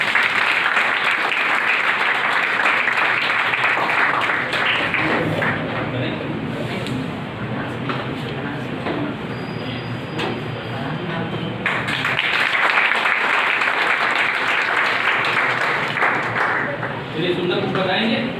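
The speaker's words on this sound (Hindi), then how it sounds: "तो एक तालियां इनके लिए।" Students in a coaching class in Jaunpur break into sustained applause for a selected candidate, dense clapping filling the room loudly throughout with crowd murmur underneath, swelling again near the end.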